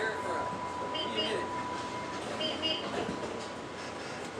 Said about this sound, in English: Northbound train at Santa Fe. Doors are closing. Train departing.